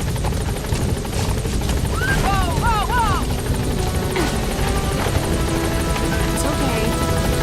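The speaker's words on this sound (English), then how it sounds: "Support helicopter has arrived." A support helicopter arrives in the video game Metal Gear Solid V, its rotor thudding loud and close in a steady drone, with a few brief electronic chirps over it.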